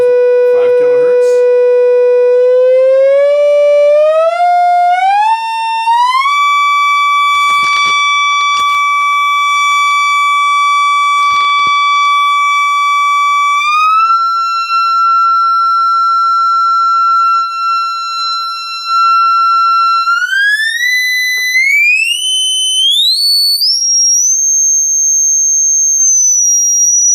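Test tone played through an old defective class D amplifier, a loud pure sine tone stepping upward in pitch in distinct stages over about half a minute, with brief handling clicks early on.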